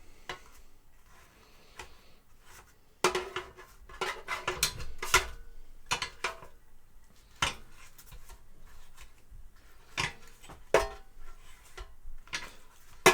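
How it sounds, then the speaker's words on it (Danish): Frozen spring rolls being turned over in an air fryer basket after about ten minutes of cooking, with scattered light clatters and taps of varying loudness and no talking. "Så har de været i airfryeren i små 10 minutter. Jeg vender dem rundt."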